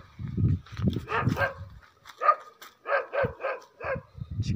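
A dog barks repeatedly in a Moroccan mountain village damaged by an earthquake, a run of sharp, fairly close barks in uneven bursts, with some low background rumble between them.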